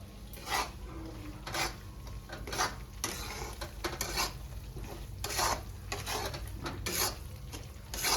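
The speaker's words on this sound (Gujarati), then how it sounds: "ઘીમાં બનાવે છે મારા મમ્મી સુખડે આપણે જોઈશું લોટ શેકાય છે" Flour roasting in ghee is stirred with a spoon in a pan, making repeated rhythmic scraping strokes over a faint background sizzle.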